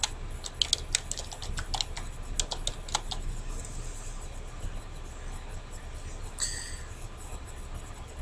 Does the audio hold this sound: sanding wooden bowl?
no